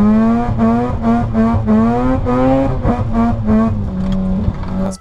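A Mazda RX-8 rotary engine revs hard, its rising, buzzy drone broken by rhythmic pulses of throttle and a few sharp braps, close and loud.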